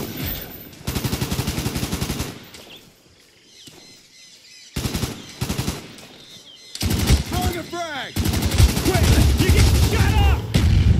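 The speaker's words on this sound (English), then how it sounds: "I'm getting shot up" Automatic gunfire and bursts of shooting in the video game Call of Duty: Black Ops, loud and close, coming in several long rattling volleys separated by short quieter gaps.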